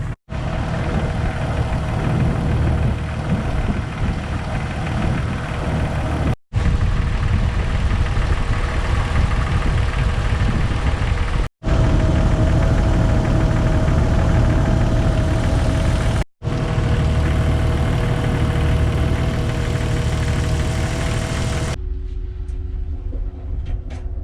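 A Jeep engine idling steadily just after an oil change, a smooth constant low rumble heard up close with no talk, broken by a few brief cuts.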